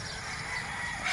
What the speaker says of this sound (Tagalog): Ayan yung mga pullets nila.